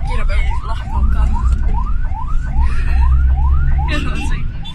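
A loud ambulance siren in Bali wails in rapid repeating rising sweeps close by, over engine rumble, with some voices underneath.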